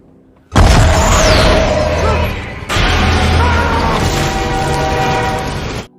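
A loud, roaring rush of a passing train from the film Tarot, as it strikes a person, with a sharp break midway, dense low rumble and clattering throughout, ending abruptly.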